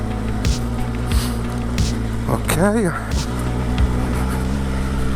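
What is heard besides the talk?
Benelli TRK 502X motorcycle engine riding off-road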